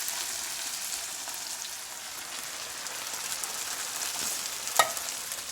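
Tomato sauce with garlic sizzles in a hot pan, a soft steady crackling fry with a faint clink near the end.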